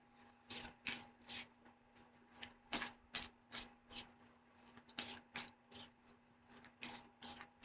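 Tarot cards are shuffled repeatedly in quick riffling bursts, each a crisp papery flutter, close up and fairly quiet, with a faint steady hum beneath.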